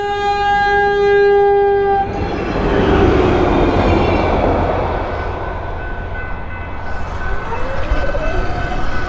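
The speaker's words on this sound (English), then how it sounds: "Oh no, train. Frickin' train?" A train passing close by, opening with a loud sustained multi-tone horn blast, then a heavy rumbling roar of wheels and cars rolling past that slowly fades.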